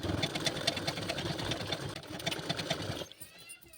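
Sewing machine runs in a steady rapid stitching rhythm while sewing a woolen kurti, close and moderately loud, stopping abruptly near the end.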